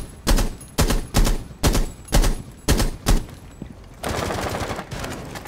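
Rapid bursts of gunfire in Rainbow Six Siege, a string of sharp, loud shots in quick rhythm fired through a wall in a house map, followed by a harsher rushing noise.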